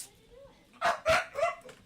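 A pet dog gives three quick barks or yips close by in a quiet indoor room, excited as someone arrives home.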